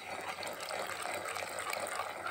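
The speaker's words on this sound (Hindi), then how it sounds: "उसको थोड़े से पानी में मिक्स करके तो वो हम इसके अंदर अब ऐड करेंगे थिकनेस के लिए।" Cornflour slurry mixed with water being poured into simmering tamarind chutney, a steady close liquid pour and gush lasting a couple of seconds without talk.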